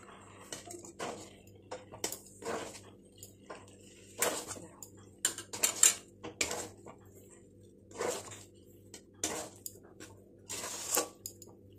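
A mother stirs milk and milk cream into sattu in a pot, giving soft irregular scrapes and clinks of a utensil against the vessel in scattered bursts over a low steady hum.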